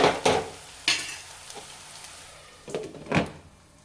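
Ginger garlic paste fries in a pan for egg bhurji, a steady sizzle broken by several sharp scraping stirs of a spoon against the pan, in uneven bursts.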